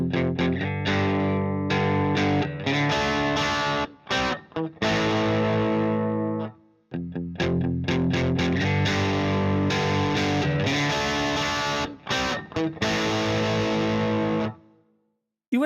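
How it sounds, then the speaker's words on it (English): Heavy high-gain guitar amp distortion: thick, saturated chords ring out loudly and continuously, with a couple of brief stops and restarts before fading at the end, no voices present. "With high-gain amps, however, it's not uncommon for heavier distortion to kick in at as low as 2 on the gain knob."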